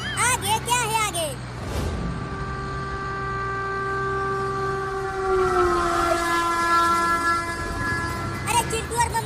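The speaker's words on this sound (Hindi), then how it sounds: "इसी लाइन पर आगे से ट्रेन आ रही है।" A cartoon train comes down the railway line with horn and whistle blasts and rumbling rail noise, voices talking over the start and end.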